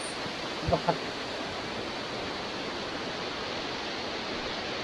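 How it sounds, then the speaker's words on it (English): The waterfall in Lydford Gorge, Devon, gives off a steady, even rush of falling water that stays unchanged throughout, with one brief soft knock near the start and no voices. "It's actually pretty decent waterfall."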